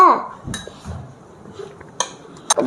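A spoon clinks against a glass while mint is stirred into lemonade, a few sharp separate taps spaced out among soft handling noises, close and fairly quiet, with a voice briefly at the start.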